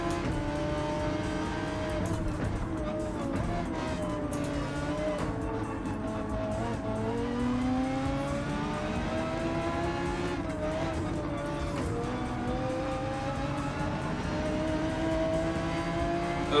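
A Gr. 4 race car in a racing video game at Spa-Francorchamps: a steady engine drone whose pitch rises and falls as the throttle is worked, with a little tyre noise, loud and continuous with no talk.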